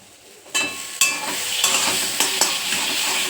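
Nigella seeds tempering in hot oil in a pan, a sudden sizzle and crackle that flares as spices hit the oil, with a few stirring scrapes and clinks over a steady frying hiss.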